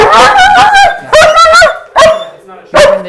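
A dog barks in four loud, close bursts, yelping and whining in a high, strained way during a training session for separation anxiety, with short pauses between.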